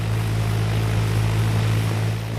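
A propeller-driven aircraft's engine and propeller make a steady, loud drone with a strong low hum throughout, constant in level with no talking.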